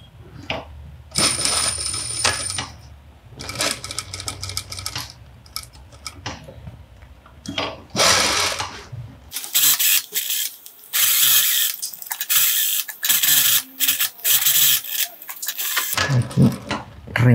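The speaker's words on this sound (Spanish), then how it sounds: "Ahora empiezo a coser por el forro." A sewing machine stitches the lining of a fabric glasses case in bursts of rapid mechanical clatter separated by short pauses, close up, with occasional fabric handling sounds in the gaps.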